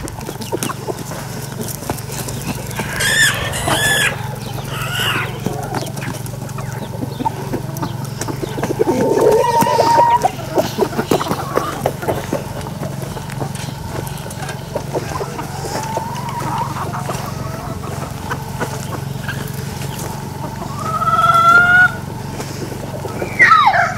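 Chickens in a coop during coop cleaning: scattered clucks and short calls over a constant low background hum, with brief louder squawks now and then.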